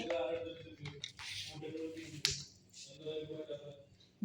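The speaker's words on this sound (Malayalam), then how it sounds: "ഓക്കെ, 8 ടൈംസ് ക്ലാപ്പ് അടിച്ചു." Several sharp hand claps ring out close by, spaced unevenly among steady talking voices, with a louder final clap at the very end.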